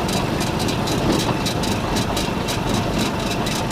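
A mini auto rickshaw engine runs steadily and loudly throughout, a continuous rumbling drone with a faint rhythmic rattle, close by and with no talking.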